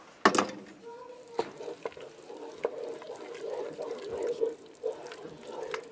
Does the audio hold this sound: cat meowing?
no